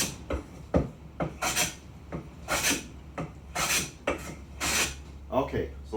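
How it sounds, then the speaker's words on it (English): A hand plane is pushed across a wooden board in repeated strokes, each a rasping, shearing swish roughly a second long, with several passes close together and a steady low hum underneath. "I'm starting with the blade off the board, going all the way across and finishing out."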